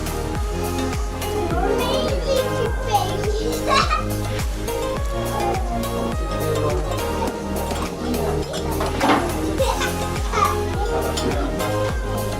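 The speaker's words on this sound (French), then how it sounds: "c'est un peu bruyant, parce qu'il y a des enfants qui crient et tout" Children shout and chatter in a busy hotel breakfast room at a B&B Hotel near Disneyland Paris, with clinking dishes and background voices, loud and continuous.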